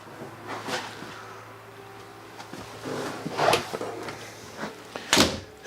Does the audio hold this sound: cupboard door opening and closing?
yes